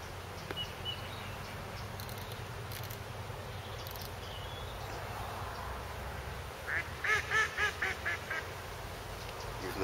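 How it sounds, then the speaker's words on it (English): A duck quacks near the end in a short burst of several calls, faint and somewhat distant, over a steady outdoor background during a carp fishing session. "Even the duck call, it was funny."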